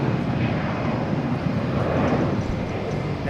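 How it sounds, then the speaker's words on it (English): A Delta Airbus A321 airliner bound for Atlanta at Boston Logan, heard as a steady, fairly loud broadband engine roar from beginning to end. "This Delta A321 heading to Atlanta."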